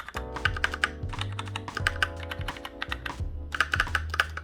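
Typing on a white Razer BlackWidow Lite Mercury Edition keyboard with silent mechanical switches: steady rapid clacks in bursts, close and fairly loud, with short pauses between runs and no voices.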